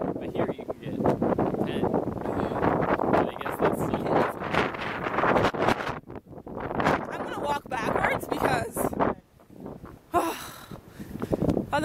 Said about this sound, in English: Otherwise, we're walking right into the wind.